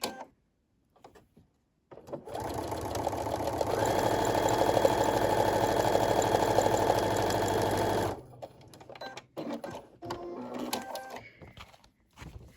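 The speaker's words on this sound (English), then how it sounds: "flip it over to the back and stitch" A sewing machine stitches a paper-pieced heart quilt block, a steady whirring run of about six seconds that speeds up midway, with faint handling sounds before and after.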